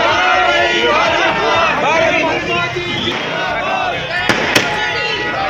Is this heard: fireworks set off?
yes